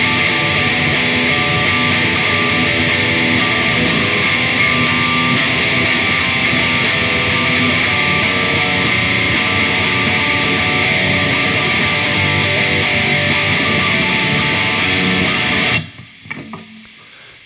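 A heavily distorted electric guitar plays a chorus riff, a dense, loud, sustained wall of chords with a steady rhythm, cutting off abruptly near the end.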